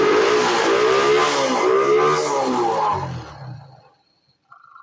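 Engine revved with a carburetor float fitted, only the left float remaining; a loud, close, rising and falling revving drone lasts about three seconds, then winds down to near silence.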